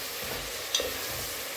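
Onion frying and being stirred in a cast-iron pot, a steady broadband sizzle with a soft scrape of the spoon partway through, fairly close and alone.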